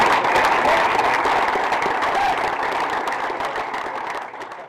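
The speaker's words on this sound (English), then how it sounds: "Everybody give Brooks a round of applause" A crowd applauds a five-year-old baseball athlete, steady dense clapping that holds loud throughout and fades slightly toward the end, with no talking over it.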